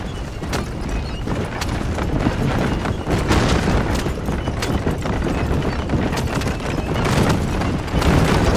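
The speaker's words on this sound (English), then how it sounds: "Move them horses, damn it!" Horses pulling a wagon in the Red Dead Redemption video game make a loud, dense, continuous rumble of galloping hoofbeats and rolling noise throughout, with no speech.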